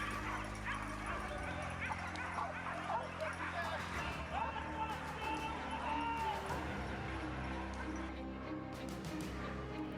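Several hunting dogs bark and yip excitedly in bursts during a wild boar drive hunt, with some whimpering, mixed with outdoor rustling and movement through brambles, fairly close.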